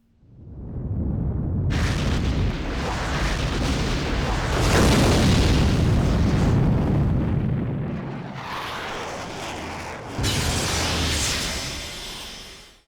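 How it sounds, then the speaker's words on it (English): The moon exploding in the PS1 game Suzuki Bakuhatsu: a long, loud, roaring blast that swells into rumbling debris, eases off, then erupts again in a second burst before fading out. "Fucking moon exploding."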